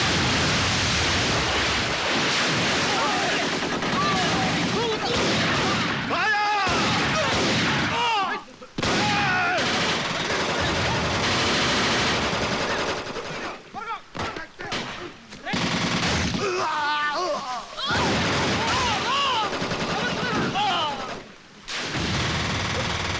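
Bursts of heavy gunfire from a Telugu movie scene, including rapid machine-gun volleys and loud blasts, ring out in dense, sustained waves with brief gaps. Music and effects fill the spaces between them.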